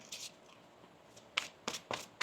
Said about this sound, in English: One more shuffle here, thank you.